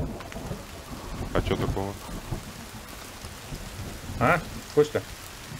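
In the video game The Forest, a thunderstorm with rain hisses steadily in the background, with a few sharp thunder cracks near the end, under people talking.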